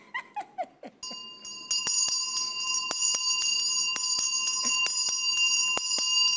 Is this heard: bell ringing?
yes